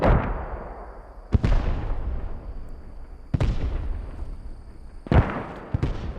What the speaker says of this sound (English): I think these are the 4-inch mortars if they're shooting at that distance